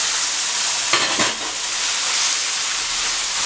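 Catfish pieces dropped into a hot pan for spicy fried catfish, giving a steady loud sizzle with a brief burst of crackle and hiss as the fish goes in, no talk.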